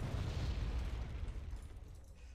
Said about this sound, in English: There's some heavy artillery coming down.